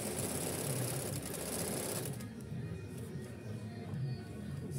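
A Brother Prestige 30 sewing machine runs a zigzag stitch, a continuous fast mechanical whir and rattle that holds steady, then drops slightly quieter partway through but keeps going to the end.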